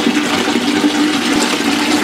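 Water pours continuously from the two outlets of a homemade overhead aquarium filter driven by a 14-watt pump, a steady loud splashing rush close by with no pauses.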